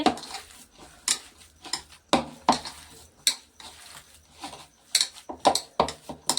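Potato filling for kulcha is mashed and mixed with chili powder and salt in a bowl, giving a series of sharp clinks and scraping knocks in an irregular rhythm, close and fairly loud, with no talk.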